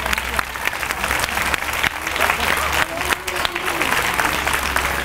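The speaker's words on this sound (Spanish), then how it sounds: "Un aplauso para ellos." A crowd applauds steadily, a dense wash of clapping from many hands that holds at an even loudness throughout.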